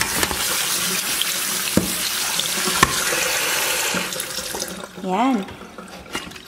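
Raw pork for adobo is rinsed under a running kitchen tap, a steady splashing hiss of water filling the clip, and someone speaks briefly near the end.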